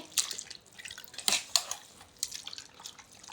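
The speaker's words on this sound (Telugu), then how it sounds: "మళ్ళీ ఇది వాటర్లో బాగా కడుక్కోవాలి మటను" Raw mutton is washed in water, giving quiet scattered splashes and drips in a few irregular bursts, with faint sloshing between them.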